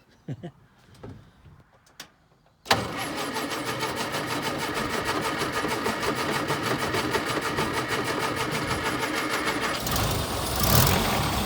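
An old bone yard car that has sat for years cold-starts: faint clicks and knocks, then the engine catches abruptly and settles into a loud, busy, rattling idle that revs up near the end.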